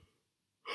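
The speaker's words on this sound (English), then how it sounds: "I had to yawn just for a bit because I just came back from work" A tired person yawns: a short quiet lead-in breaks into a sudden, loud, breathy intake of air at the close.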